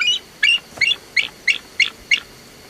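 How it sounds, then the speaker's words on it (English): A bald eagle gives a run of about seven thin, high, chicken-like chirping notes at an even, quick rhythm, fairly close and alone. "when in fact they sound like an overgrown chicken."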